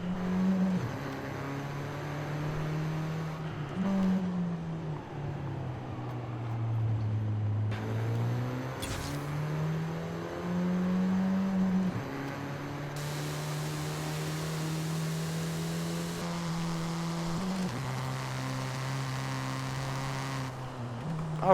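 A 2009 Mini John Cooper Works, front-wheel drive, driven in Forza Horizon 5, its engine note rising and falling steadily through gear changes with brief dips and revs, loud and continuous without any talking.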